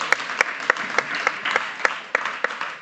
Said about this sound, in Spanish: Un aplauso, por favor. Un aplauso.